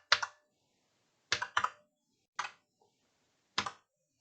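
Short bursts of keystrokes on a computer keyboard, four or five quick clusters of clicks separated by silent pauses, close and fairly quiet.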